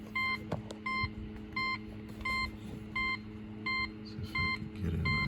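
Repeated electronic chime from a 2004 Pontiac GTO after the ignition is switched on, a damaged ignition lock cylinder spring in the car, sounding as steady evenly spaced beeps about every two-thirds of a second, clear and close over a low hum.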